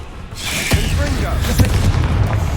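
In Hogwarts Legacy, a Confringo blasting curse bursts as a couple of sharp booms with whooshing, crackling tails over a low battle rumble, loud and near, with a voice shouting over it.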